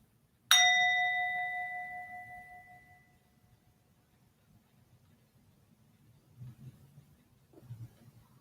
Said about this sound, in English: at the sound of the bell, our meditation practice is complete